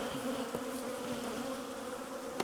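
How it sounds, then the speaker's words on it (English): Honeybees at the front of the hive at night keep up a steady, even drone, close and moderately soft, with a couple of faint clicks over it. "so this is where the most bees are going to be hanging around."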